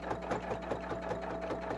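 A sewing machine stitches a duster with the presser foot down, giving a steady close whirring run of rapid needle ticks throughout.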